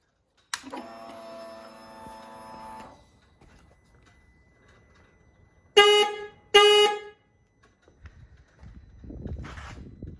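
A replacement horn on an Indian Scout Bobber motorcycle sounds one sustained two-second honk, then two short sharp blasts a moment later, loud and close with quiet between them.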